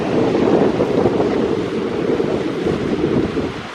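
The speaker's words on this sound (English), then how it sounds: "It's extremely windy." Strong wind buffets the microphone on the Pembrokeshire coast near St. David's, with waves surging and washing steadily below, a loud, continuous roar without pause.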